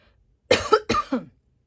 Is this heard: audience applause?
no